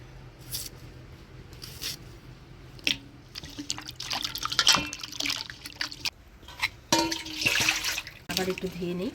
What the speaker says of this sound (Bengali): আবার একটু ধুয়ে নিই, সারের জিনিস তো।